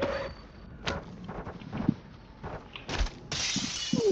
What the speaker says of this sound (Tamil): இப்போ நான் ட்ரோனுக்காக கண்ணாடி உடைச்சேன்